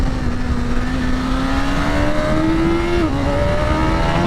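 A BMW S1000RR superbike accelerates hard out of second gear, its loud, close engine note climbing steadily, with a brief dip near the end before the pitch keeps rising.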